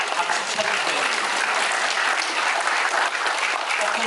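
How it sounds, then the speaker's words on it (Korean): An audience bursts into dense, sustained applause at a Korean science and technology lecture, loud, even clapping filling the room continuously with no talking over it. "박수 쳐주세요"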